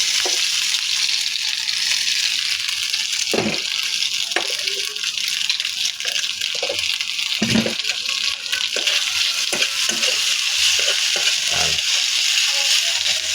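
Ham frying in a pan for a simple zippo egg dish, a steady bright sizzle that runs throughout, with occasional soft knocks and stirring sounds underneath.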